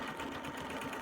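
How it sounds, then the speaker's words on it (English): Quilting sewing machine stitching steadily around the border of a quilt, a continuous close whirring hum with fast even needle rhythm, no talk. "and I'm going to stitch"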